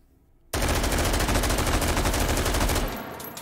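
Sustained full-auto burst from an AR-18 rifle fitted with a stock and muzzle brake in the VR shooter H3VR, loud rapid-fire cracks for over two seconds after a quiet start, then an abrupt stop.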